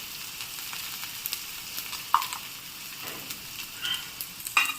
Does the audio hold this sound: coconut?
yes